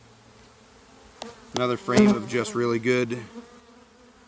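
Honey bees settled on a hive frame give a soft, continuous buzz that is mostly covered by a person talking close by.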